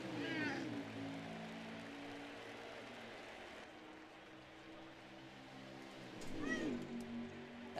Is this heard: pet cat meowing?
yes